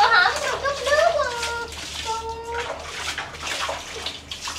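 River water poured into a red plastic basin gives a continuous splashing, running-water rush, while voices, including a child's, talk over it.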